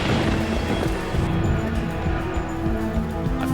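Baseball-size hailstones pounding down in a fierce storm on a highway, a dense, loud and continuous roar of impacts with a deep rumbling undertone, no voices.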